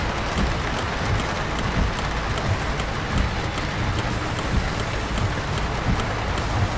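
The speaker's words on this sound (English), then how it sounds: "Now it's raining, which is very loud" Steady heavy rain in the video game 18 Wheels of Steel: Across America hisses continuously, with soft periodic pattering drops throughout and no voices.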